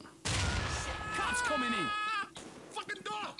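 A door-breaching explosion in the SWAT 4 video game bursts in as a loud, sustained broadband blast lasting about two seconds, with people talking over it and afterward.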